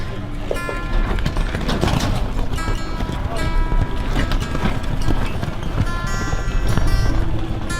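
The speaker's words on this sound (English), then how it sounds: "Canter your horses, please." Rapid, rhythmic hoofbeats of horses cantering at a riding lesson, steady and fairly close, with voices talking over them at times.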